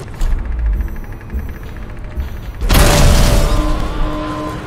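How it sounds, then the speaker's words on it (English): A sudden loud explosion bursts out partway through the clip in the video game Dishonored, after a quieter stretch of low rumbling, and a broad roaring wash trails off afterward. "Get down! Explosion!"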